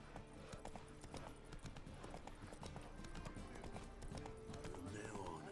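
Horse hooves clip-clop at a steady trot in The Witcher 3 video game, a quiet, even rhythmic clatter with game voices and sounds underneath.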